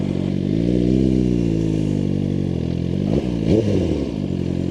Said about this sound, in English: let's go ahead and do one more time with the rev limiter